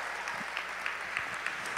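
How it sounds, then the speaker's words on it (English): A crowd of parents and guests applauds at a high school graduation ceremony, the clapping fairly soft and distant but continuous, a dense patter of many hands. "can we give them another big round of applause?"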